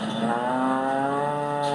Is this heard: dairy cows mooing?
yes